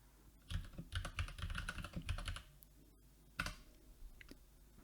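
Keystrokes clatter on a computer keyboard in a quick burst of clicks, a pause, then a short second flurry, close and moderately quiet with no voices.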